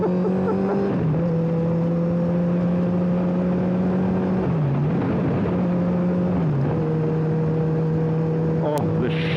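A 2009 Honda CBR1000RR Fireblade with 44,000 km on it hums steadily while being ridden, its engine note holding a constant drone that dips briefly twice as the revs shift, with wind and road noise underneath.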